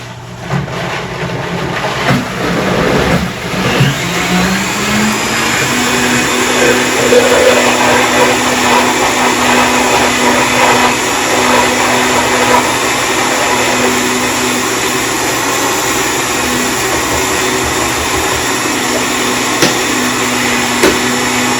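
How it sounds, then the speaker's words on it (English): A Vitamix blender blending a recovery shake, a loud steady motor whir with a broad rushing roar that holds at a constant pitch for the whole stretch after a brief rise near the start. "The Vitamix does make a bit of noise."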